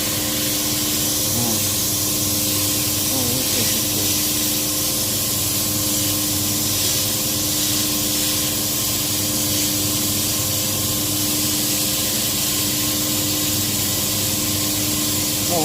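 Sandblaster blasting sand against wheel rims, a steady loud spraying hiss with a pump or compressor drone beneath, continuous throughout with no talk.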